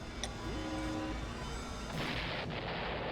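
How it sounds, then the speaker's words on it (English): A stock video game explosion from Escape from Ever After on Xbox Series S booms loudly with a dense rumbling blast and a sharp crack near the end, heard alone without talk. "Kaboom! I love the stock sound effect, by the way, for explosions."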